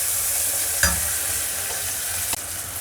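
Onions sizzle steadily in hot oil in a pan for a Tamil mor kuzhambu. A single sharp stir scrapes through the pan and a brief clink follows near the end.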